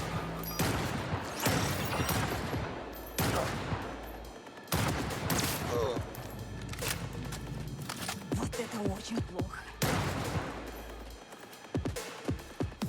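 Gunshots in Cyberpunk 2077: Phantom Liberty ring out in loud, repeated volleys and rapid bursts, separated by short gaps and mechanical clatter, with no talking.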